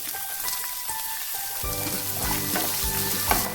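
Curry leaves and a small piece of carrot crackle and sizzle in hot oil, a steady close frying hiss that grows denser midway, with a few soft stirring knocks and no voices.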